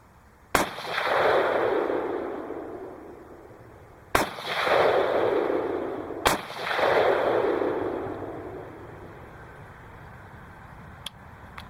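Three loud, sharp AR-15 rifle shots in .223 from a 20-inch barrel crack out several seconds apart, each trailing a long booming echo, with a fainter pop near the end.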